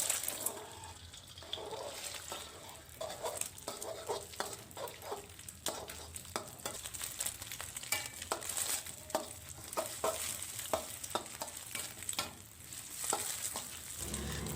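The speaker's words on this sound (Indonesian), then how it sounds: "Kemudian ini akan saya orak-arik telurnya hingga matang." Beaten eggs scrambled in hot oil, a continuous gentle sizzle broken by frequent scraping and tapping of a spatula, close and fairly quiet, with no speech.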